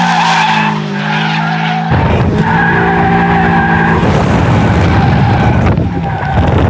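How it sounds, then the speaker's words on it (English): A car's tires shriek in long, loud squeals as it warms them up before a race, with engine roar underneath and the pitch shifting as the wheels spin and grip. "Dan's warming up the tires."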